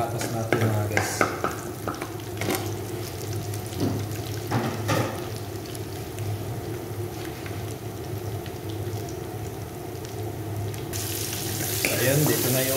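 Carrots, potatoes and onions sauté in oil in a pan, giving a steady close sizzle broken by repeated scraping stirs, with the frying growing brighter and louder near the end.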